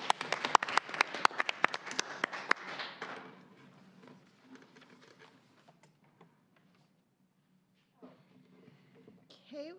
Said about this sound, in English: Let's give Eva just a round of applause for being here tonight.